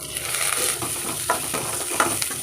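Onions sautéing in a pan for carrot beans poriyal, a steady close sizzle with soft scraping stirs and a few brighter clinks of the spatula throughout.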